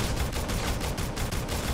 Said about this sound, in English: now I can unload a full magazine right into his head